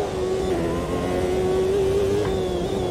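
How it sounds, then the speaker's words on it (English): A race car engine in a CART racing video game drones at high revs with a steady, slightly wavering whine, loud and continuous with no talk over it. "Engine doesn't sound right, though."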